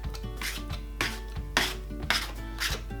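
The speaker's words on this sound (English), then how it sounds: "Get your hand in there and mix that round so it's totally coating the bowl" A hand rubs rapeseed oil around the inside of a mixing bowl, making soft swishing strokes in a few repeated sweeps, quiet and close.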